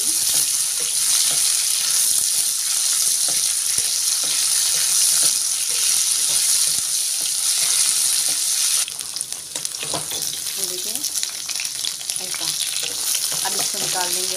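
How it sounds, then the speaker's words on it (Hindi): Okra fries in oil in a kadhai, a loud, dense crackling sizzle stirred with scraping knocks, easing slightly partway through and carrying on without talk. "पहले हम तेल डाल के भिंडी को थोड़ा तेल में फ्राई कर लेंगे।"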